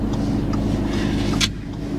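Steady interior rumble of an Audi car driving on a road, a low continuous drone heard from inside the cabin with a brief brighter click or rustle partway through, no one speaking.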